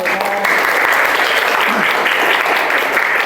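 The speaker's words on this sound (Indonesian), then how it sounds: "tepuk tangan." Loud, steady applause from a class of people clapping continuously, with a few voices faintly mixed in at the start.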